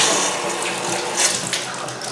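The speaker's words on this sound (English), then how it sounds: "you can just like hit the faucet a couple times, just to help flush it out." Water runs steadily from the faucet of a Kohler whirlpool tub, a continuous close hiss and splash with no talking.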